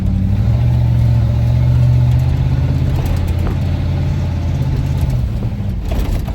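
A Ford F150 brick-nose pickup with its fuel injection swapped for a carburetor runs loud and close, a steady low engine drone that eases slightly toward the end.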